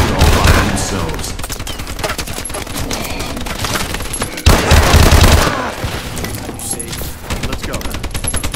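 Automatic turrets in Call of Duty: Advanced Warfare Exo Zombies fire a steady, loud, rapid stream of shots with almost no pause, and a heavy thump sounds midway through.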